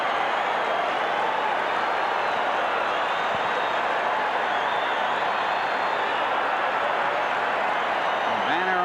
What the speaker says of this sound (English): What a reaction by this capacity crowd